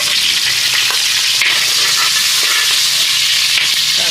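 Onion tipped into hot oil fries with a steady, loud broadband sizzle that holds evenly throughout, with faint scraping stirs underneath and no voices.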